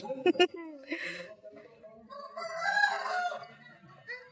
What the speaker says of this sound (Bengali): এখানে একটা মুরগি বাবারে